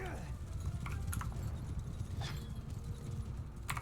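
Massed horse hooves clip-clop in a video game battle as horsemen advance, a thick continuous clatter with a faint whinny-like touch, while a voice speaks over the din.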